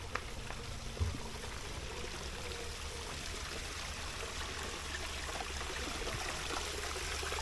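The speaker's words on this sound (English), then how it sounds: "There's a slightly bigger waterfall to this pond." A small waterfall at Peasholm Glen in Scarborough spills a modest flow into a pond, giving a steady, close trickling and splashing wash that runs unbroken throughout with no talk.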